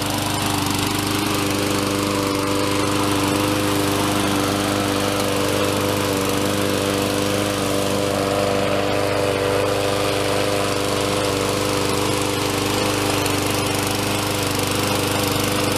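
A lawn mower with a Honda engine runs steadily at close range, a loud buzzing drone with a rattling tone that holds an even, unbroken level throughout.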